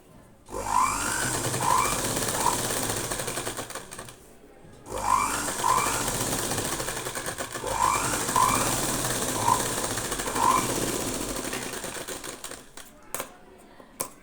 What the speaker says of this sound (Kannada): ಇನ್ನೊಂದು ಒಂದು ಡಬಲ್ ಸ್ಟಿಚ್ ಹಾಕಬೇಕು ಈ ರೀತಿ ನೀಟಾಗಿ ಎಳಿದಿರ ಸ್ಟಿಚ್ ಮಾಡಬೇಕು